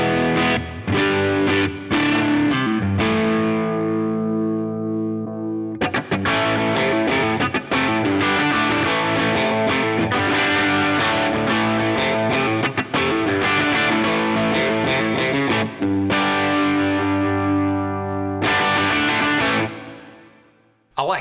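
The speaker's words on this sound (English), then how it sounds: "Let's hear a P90 in here." A Boss SY-1000 models a P90-pickup guitar through heavy distortion, with dense sustained chords and riffs that break off into short gaps and resume. The playing stays loud and full throughout and ends on a ringing chord that fades.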